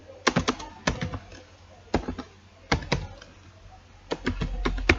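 Fingers type in short bursts on a computer keyboard while entering a Python list in a shell, the clicks crisp and close, clustering in three quick flurries separated by brief pauses.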